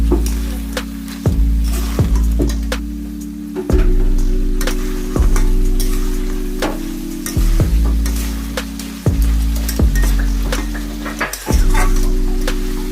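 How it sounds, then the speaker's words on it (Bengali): Hot water poured into fried masala for crab gravy sets off a loud, continuous sizzle and bubbling in the pan, with a clear tonal hum and repeated knocks of a utensil at intervals. "এবার আমাদের গ্রেভি করার জন্য আমরা একটু গরম জল এর মধ্যে দিচ্ছি"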